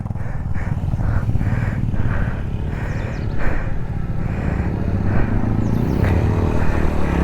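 Royal Enfield Meteor 350 motorcycle off-roading at full throttle near Arulmigu Chennaraya Swamy Temple, a close, loud, steady single-cylinder engine drone with slight throttle surges and rough, bumpy variations, no talking over it.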